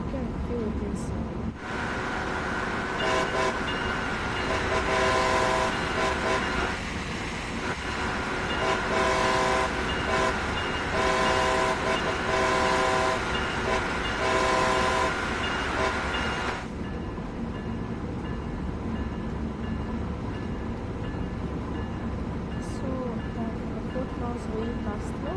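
A train in the Train Sim World 6 game on the Boston–Providence line rolls along with a steady, loud rumble and sustained horn blasts in the middle stretch, then settles to a quieter running drone, with a voice talking over it.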